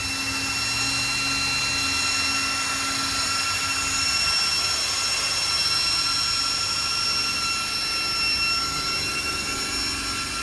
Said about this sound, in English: So these fans are pretty loud. Yeah. So you can hear them spin up.